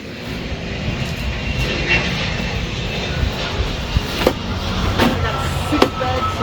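A 2014 Ford GT500 revs on a dyno during a pull, a loud, steady engine roar held throughout with a few brief clicks and knocks over it, and no one speaking.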